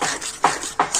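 Semolina dough being stirred in a pan as it stiffens while making a sweet, rhythmic scraping and rubbing strokes, about three close, distinct passes in quick succession.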